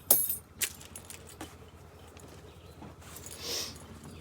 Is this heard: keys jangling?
yes